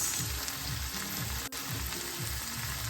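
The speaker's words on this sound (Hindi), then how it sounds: "अभी मैं इसको फ्राई करती हूँ थोड़ा सा गोल्डन ब्राउन होने तक" Steady, close sizzling of food frying in a pan until golden brown, a continuous crackling hiss with no voices.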